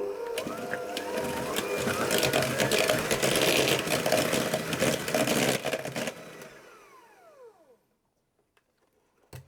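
Ginger cookie batter whirs as an egg is beaten in with an electric mixer, a steady loud motor drone for about six seconds that then winds down and stops, followed by near silence.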